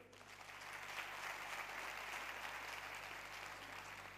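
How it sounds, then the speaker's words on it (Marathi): Audience applause at a singing competition, a sustained wash of many hands clapping that swells in the first second and holds steady, heard from within a hall over a low electrical hum. "पण या टाळ्या होत्या माझ्या सूत्रसंचालनासाठी"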